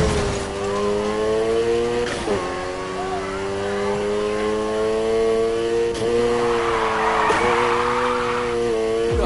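A car drifts in Need for Speed Heat, its engine droning in steady harmonic tones under a continuous tire squeal, with brief bursts of louder skidding and a voice speaking over the racing.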